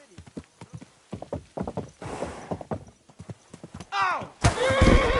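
A horse in Kingdom Come: Deliverance II clip-clops along in steady, close hoofbeats, then gives a loud, wavering whinny near the end, with a brief spoken remark over the opening steps.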